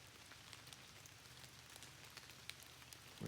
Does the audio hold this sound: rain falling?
yes